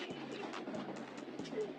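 Pigeons coo inside a large coop in a low, repeating rhythm at close range, steady throughout, with faint rustling in the background.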